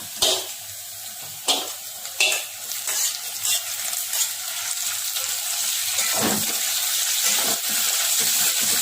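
Okra pieces added to a hot pan with green chillies, crackling into a sizzle with scattered clanks and scrapes of stirring, the frying growing steadier and fuller over time.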